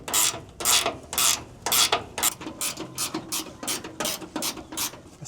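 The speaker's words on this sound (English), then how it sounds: "the last thing I'm doing under here is just tightening these up, just bringing them down to take up any slack" Ratchet tightening body mount bolts under a Chevrolet Blazer, a rapid run of sharp clicking strokes in quick rhythmic bursts, close and clear with no talk.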